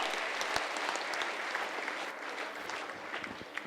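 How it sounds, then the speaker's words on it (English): Steady applause from a crowd at a Sainik School Korukonda golden jubilee event, dense clapping that continues evenly throughout without a break. "A big round of applause to Mr. NCS Rao."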